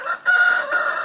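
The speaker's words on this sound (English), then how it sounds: "for those of you who hate the rooster" A rooster crows close and loud in a single short, bright, sustained call heard alone near a tin-roofed shed.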